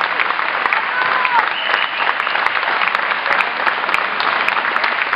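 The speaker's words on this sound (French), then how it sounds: "je voudrais que vous les applaudissiez une fois très fort et très très fort." Audience applause at a live show with a singer and a performing troupe in Saint André de Sangonis, steady dense clapping filling the room at full volume for the whole stretch, with no talk over it.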